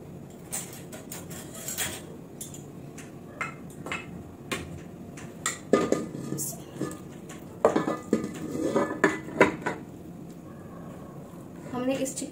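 Cooked chicken being layered into a slow-flame biryani pot with rice set aside: scattered metal utensil clinks and scrapes against the pot, irregular and close, with voices murmuring in the background.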